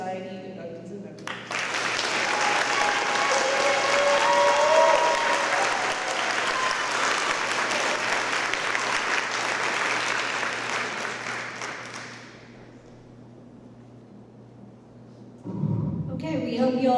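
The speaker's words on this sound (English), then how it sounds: "Please join me in one last applause for all of our National Honor Society inductees and members." A school auditorium crowd at a National Honor Society induction ceremony claps loudly and steadily for the inductees, a full sustained round that tapers off near the end, followed by a voice starting to speak.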